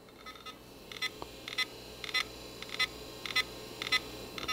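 Short repeated electronic chirps and clicks come at fairly regular intervals over a faint hum, from the old hard drive of a Toshiba Satellite 4015 laptop seeking.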